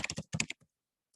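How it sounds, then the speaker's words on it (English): A short burst of typing on a computer keyboard, several quick close keystrokes in two clusters with a faint isolated click at the end, no voices. "I can type that into the chat"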